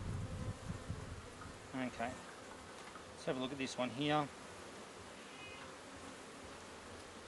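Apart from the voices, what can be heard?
bees buzzing around an opened top bar hive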